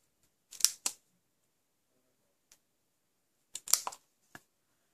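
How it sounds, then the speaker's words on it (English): Scissors snip the end of a piece of card stock: two quick crisp cuts, a faint tap, then a cluster of sharp snips and one last cut, close and clear against near silence. "I'm going to snip that end a little bit closer"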